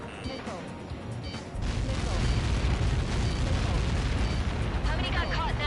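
Explosion from Helios projectiles in Ace Combat, a massive sustained rumbling blast that surges in and roars on loudly after a quieter lead-in.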